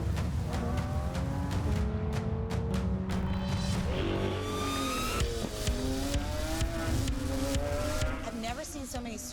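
A Lamborghini Aventador SVJ drives and accelerates at a cars-and-coffee meet, its engine rising and falling through several loud, close revs with sharp clicks and rattles, under ongoing talk.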